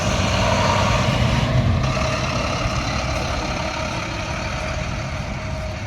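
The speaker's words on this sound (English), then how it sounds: "The school bus just drove by." A school bus passes close on a road near the Delaware Water Gap, its heavy engine rumbling loud at first and slowly fading as it moves away, with no voices over it.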